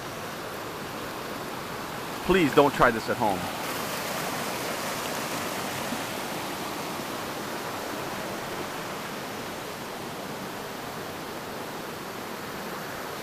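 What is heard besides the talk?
flowing water beside a body of water in the jungle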